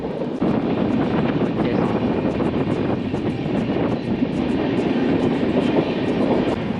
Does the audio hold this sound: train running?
yes